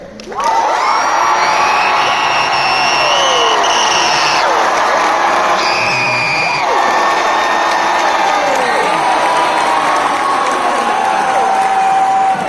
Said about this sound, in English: let's hear a big cheer